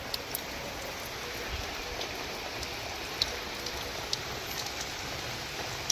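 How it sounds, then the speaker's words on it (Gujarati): Steady rain falls outdoors, a constant hiss with occasional sharper drops tapping nearby surfaces. "વરસાદ ચાલુ થઈ ગયો છે"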